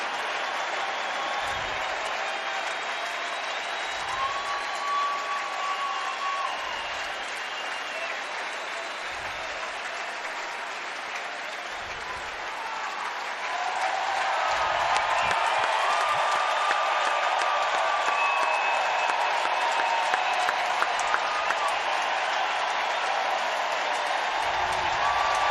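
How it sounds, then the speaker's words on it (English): A baseball stadium crowd roars and applauds steadily as the Giants clinch the NL West against the Padres, a dense, sustained cheer that swells louder midway and holds at full volume. "And he will never forget this cheer, by the way, ever."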